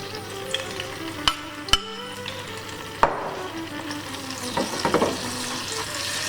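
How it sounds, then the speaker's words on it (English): Flour and paprika cook in oil for Macedonian cabbage soup, a low simmering fry broken by a few sharp utensil knocks and stirring scrapes, with quiet stretches between. "To my oil I'm going to add a little bit of flour"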